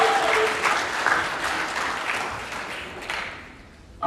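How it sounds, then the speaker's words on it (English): An audience at the Pasifika Fusion 2023 speech event in a rehearsal room gives a full round of applause, a dense, loud clatter of many hands that gradually thins and fades near the end. "Another round of applause, ladies and gentlemen"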